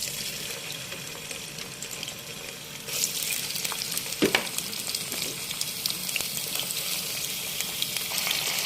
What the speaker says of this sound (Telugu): ఇందులోనే ఇప్పుడు ఈ రొయ్యల్ని బాగా ఎర్రగా వేయించుకోవాలి.